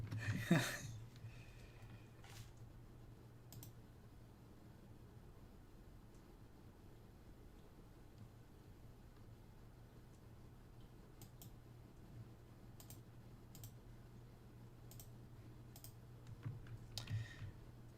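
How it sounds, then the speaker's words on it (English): Faint, sparse keyboard clicks tick now and then over a low steady hum, with a brief louder rustle at the start and end. "you're going to hear my keyboard clicking"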